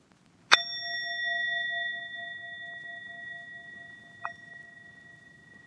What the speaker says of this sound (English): I'm going to have a bell here.